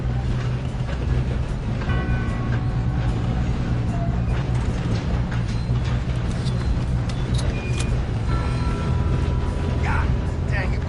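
A train in Red Dead Redemption 2 rumbles and clanks steadily, with metallic creaks and rattles under a player's voice.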